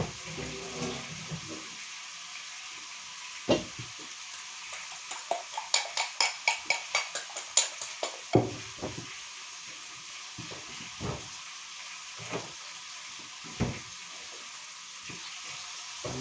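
Sautéed meat is stirred in a frying pan under a faint steady sizzle, broken by a quick run of scraping and clattering strokes in the middle and a few isolated knocks later.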